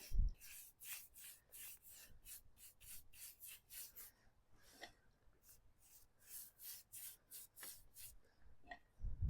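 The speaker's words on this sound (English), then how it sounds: "I'm going to go ahead and shellac this very dry frame." A brush strokes shellac onto a very dry wooden picture frame, giving a series of soft, close, rhythmic swishing rubs with brief pauses between strokes, heard alone and quietly.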